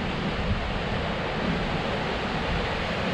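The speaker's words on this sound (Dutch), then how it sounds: "Daar in de diepte, de kolkende zee." Churning sea waves far below a cliff on the Portuguese coast, a steady loud wash of surf and wind noise with no voices.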